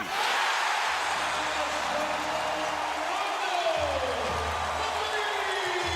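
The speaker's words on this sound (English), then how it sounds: "Here comes the crowd" A basketball arena crowd at a 2009 NBA playoff game between the Boston Celtics and Chicago Bulls roars steadily as Boston takes the lead, a dense sustained wash of cheering with a commentator talking over it.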